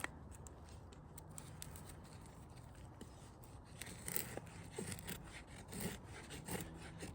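A knife shaving thin curls from a stick of wood to make a feather stick outdoors, giving quiet, repeated scraping strokes at close range with no talk.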